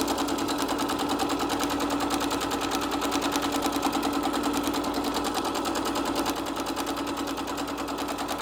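A sewing machine stitches quilt rows together in a steady, continuous run, its fast needle chatter close and even throughout with no talking.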